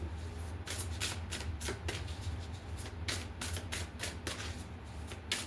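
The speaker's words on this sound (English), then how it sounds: "I'll shuffle it again." A tarot deck gets shuffled up close, with quick papery riffles and flicks repeating in an uneven rhythm over a quiet background hum, and no voices.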